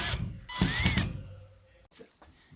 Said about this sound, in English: So now I put this extension on, and it gives me room to get in here and get this screw to take it out.